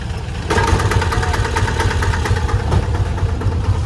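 The small engine of a decorated auto rickshaw in Rajasthan, mounted under the seat, idles with a steady, close, throbbing putter that grows louder after a brief start and holds alone.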